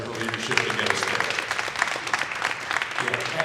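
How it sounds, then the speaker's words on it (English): An audience at an annual Urban League meeting claps steadily in dense, continuous applause for a few seconds, with faint voices mixed in underneath. "round of applause to Jennifer under her leadership to get us there."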